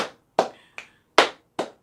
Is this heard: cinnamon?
no